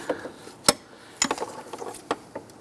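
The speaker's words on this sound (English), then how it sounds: "go ahead and snug down the bolt. Just bottom that out." Ratchet snugging down the idler pulley bolt on a 1999–2004 Jeep Grand Cherokee 4.7L V8, a few sharp close clicks and light metallic ticks scattered unevenly.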